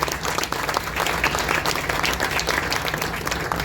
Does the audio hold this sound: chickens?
no